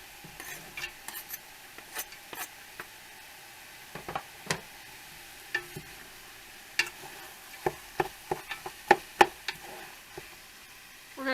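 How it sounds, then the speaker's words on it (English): Onion and Italian sausage brown in a hot pan for lasagna soup, a soft sizzle underneath frequent sharp knocks and scrapes of a utensil stirring against the pan. "We're going to turn the heat up a little bit, get this going a bit more, so we can soften the onions and finish browning the meat"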